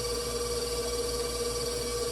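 A large stand mixer runs with a steady, even motor hum that holds unchanged throughout, with no talking over it.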